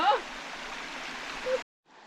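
Steady broadband rush of a stream near Alabama waterfalls, close and continuous for about a second and a half, with a brief voice-like sound at the start, then a cut and the rush returning fainter.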